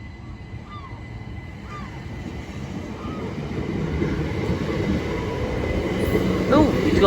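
A Southeastern passenger train to Ramsgate rumbles steadily past close by at Deal station, growing slightly louder, with faint wheel squeals and clatter over the low roar.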